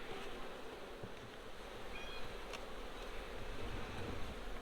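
Bees buzzing around an open hive during an inspection on a farm, a steady dense hum with no talk.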